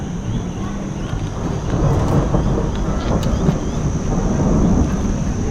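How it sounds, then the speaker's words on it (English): A low, continuous rumble of distant thunder rolling under steady rain-like noise, with no talk. "I wonder if we're going to hear the thunder."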